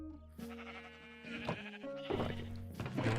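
Several bleats from sheep on a sheep farm in a city-building video game, repeated across a layered, musical game soundscape with no talking.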